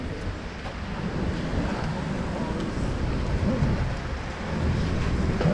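Light rain falls outdoors in Taiwan as a steady, broad hiss that holds evenly for several seconds, with no clear voices over it.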